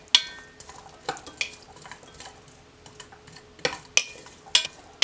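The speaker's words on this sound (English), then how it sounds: "So you're going to want to cook this about 6 minutes, about till your onions start getting a little tender" Onions cooking in a soup pot for a creamy chicken and noodle soup, heard as a quiet simmer under repeated sharp scrapes and clinks of a utensil stirring against the pot, with no talking.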